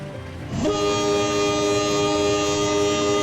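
The KA 138 Sri Tanjung train arrives at Surabaya Gubeng station in Train Simulator: low rail rumble, then from about half a second a loud, steady multi-tone horn blasts and holds to the end.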